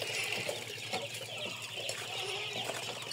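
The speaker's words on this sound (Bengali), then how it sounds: "সাব্বিরের খামারের মুরগিগুলো আছে" Hens at a layer chicken farm cluck in a steady, busy background murmur, with a dense flock chatter and occasional louder calls, no speech.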